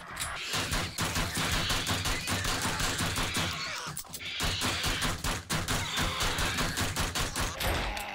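Rapid gunfire in the video game 7 Days To Die, a dense near-continuous volley of loud shots with brief gaps, no talk.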